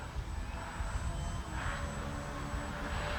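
An Arrows Trekker RC model airplane flying overhead outdoors, a steady moderately faint engine whine with a light rise as it passes.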